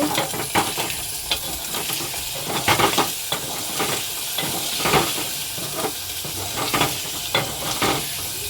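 Mutton with ginger-garlic paste and salt being stir-fried in a pot: a steady close sizzle runs throughout, broken by repeated scraping stirs of the spoon against the metal.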